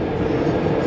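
Steady low rumble of a train in motion, heard from inside a carriage, with constant dense noise and no voices.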